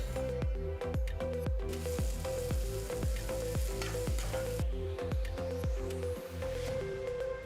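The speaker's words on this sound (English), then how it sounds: "Saute the sweet corn for about 2 minutes." Sweet corn sautés in a pan with steady, loud sizzling, and a spoon scrapes and stirs it in a regular rhythm that sounds close.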